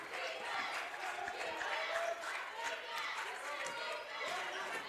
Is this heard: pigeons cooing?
no